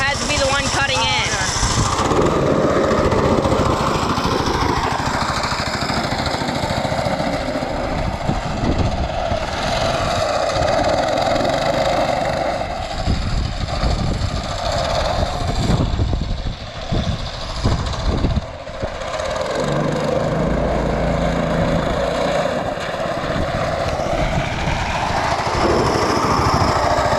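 Small go-kart engine running loudly nearby, a buzzing drone that rises and falls with throttle and bumps, with people talking and shouting over it.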